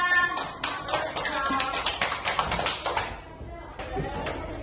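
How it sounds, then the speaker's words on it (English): Applause from a classroom of young learners for a student, dense clapping that starts strong, carries on steadily and tapers off near the end, with some voices mixed in. "Give applause to Laura."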